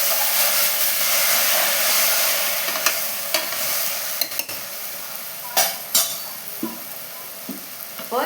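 Green pea kurma fries in a pan with a loud, continuous sizzle while a utensil stirs it, making scattered scrapes and metallic clinks against the pan.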